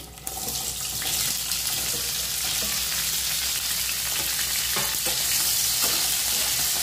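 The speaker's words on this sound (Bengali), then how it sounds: "পনির ভাজা তেলে আমি ক্যাপসিকামটা ভেজে নেব।" Steady, loud sizzling of capsicum frying in hot oil, with occasional stirring scrapes; no voices.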